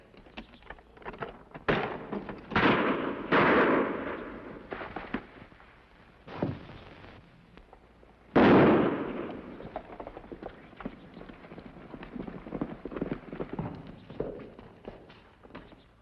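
Gunshots ring out in an old western television drama, several loud sharp bangs spaced irregularly among softer clatter and thuds.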